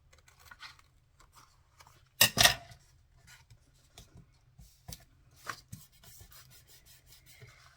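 Paper corners are folded and creased for a handmade retro cooking journal: soft scattered rubbing and rustling, with one sharper crinkling burst near the start, close and quiet.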